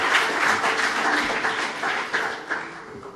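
Lecture audience applauding in a hall, a dense, continuous patter of many hands at moderate loudness, with slight swells and no voices over it.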